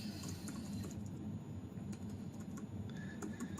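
Keys tapped on a Brydge G-Type keyboard for the Google Pixel Slate, a quiet, steady patter of soft clicks heard up close with no one talking.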